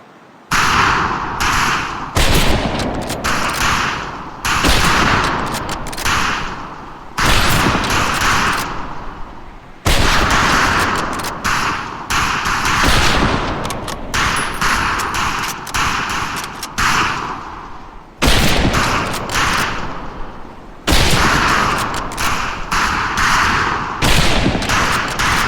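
Rifle volleys on a boot-camp firing range in Medal of Honor: Pacific Assault, loud repeated sharp cracks fired in irregular bursts with brief gaps, close and dominant throughout.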